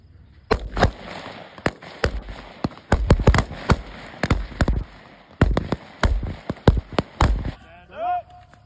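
Rifles fire on an army firing range during a Canadian Army Reserve range weekend, a loud run of sharp, irregular cracks, some closely overlapping, over a steady outdoor hiss, with a brief voice at the end.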